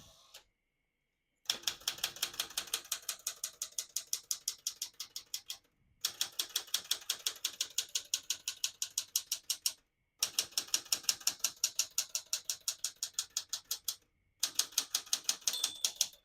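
A 1981 Smith-Corona Classic 12 manual portable typewriter clatters in fast, even bursts of keystrokes, several runs separated by brief pauses, close and crisp.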